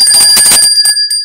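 A bell rings in a short burst on a weather-show podcast, its bright sustained tones carrying across the opening and trailing off into a few quieter strikes, with no talking over it.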